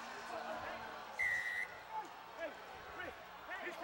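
A referee's whistle at a Canada vs Tonga rugby match at Richardson Stadium in Kingston, one sharp blast over distant crowd murmur while a commentator talks throughout.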